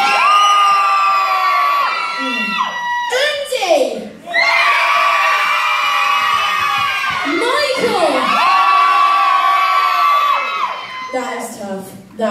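A crowd of adults and children at a beach stage event at Woolacombe's Golden Coast cheers, whoops and screams in loud sustained bursts, with brief dips between waves of shouting.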